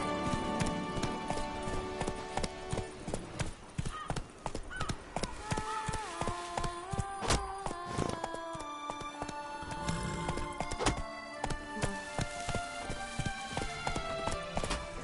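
Roach the horse galloping in quick, rhythmic hoofbeats under a dense layer of music and sound effects, with a brief spoken voice and occasional whinnying.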